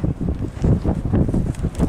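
Wind on a windy October day near Daggett, California, buffets the microphone in low, uneven gusts throughout, steady rumbling noise with no speech.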